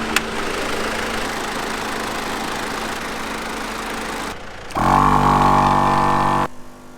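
A small portable pump inflates a flat car tyre with a steady buzzing mechanical whine that runs for several seconds, then cuts to a louder, deeper droning burst before stopping abruptly, close by with no talking.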